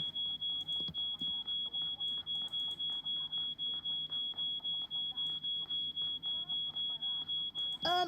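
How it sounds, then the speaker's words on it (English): An alarm in the She Could Fly escape game beeps steadily, a continuous high electronic tone pulsing in a fast regular rhythm throughout, with people talking faintly underneath. "can we just switch off that alarm?"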